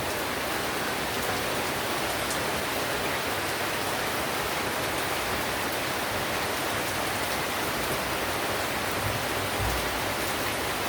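Heavy rain pours steadily, a dense, constant hiss of water drumming on surfaces, with a brief low rumble near the end.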